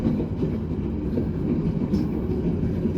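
Ambarawa Express passenger train pulling out of Cepu station, heard from inside the last carriage: a steady, loud low rumble of wheels on rails with faint clatter running throughout.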